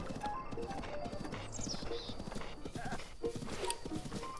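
Horse in The Legend of Zelda: Breath of the Wild, rhythmic galloping hoofbeats on open ground in a video game with a brief whinny partway through, steady and fairly close.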